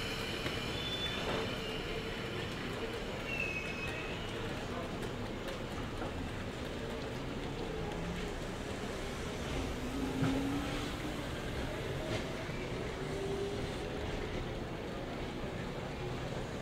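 An all-stations Sydney Trains service to Olympic Park pulls out of platform 19 at Central Station, with continuous close rumbling of wheels on rail and brief high wheel squeals rising over the steady noise.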